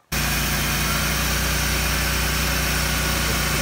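A BMW E46 M3 engine starts up abruptly and settles into a loud, steady idle during a run test after an oil pressure gauge install, a dense, even mechanical hum close by with no talking.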